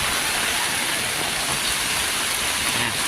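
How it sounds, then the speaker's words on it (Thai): Heavy rain driven by strong wind, a dense, loud, unbroken roar of rainfall on surfaces with no pauses. "ฝนตกเด้อพี่น้องเด้อ"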